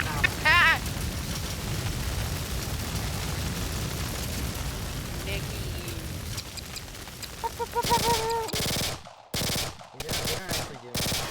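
Video game gunfire aimed at a base during a tornado survival game, rattling bursts under a steady roar with voices talking over it, then chopped, stuttering loud bursts near the end.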